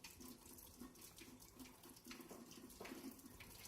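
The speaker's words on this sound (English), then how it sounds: "So we're going to rinse it out under hot water." Hot tap water runs steadily into a sink, rinsing a gelatin brush used for cake decorating, a continuous close splashing stream with slight shifts in flow.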